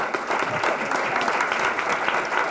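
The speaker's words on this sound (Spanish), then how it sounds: "quiero un aplauso para la nueva presidenta del Colegio de Abogados" Steady audience applause at a law book presentation honoring the new president of the Bar Association, a continuous even crowd clapping heard alone.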